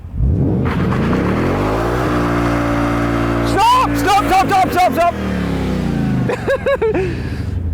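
A 2022 Ford Mustang Mach 1 V8 idles then revs hard in rising bursts during a line-lock burnout, with a voice shouting over the roar near the end.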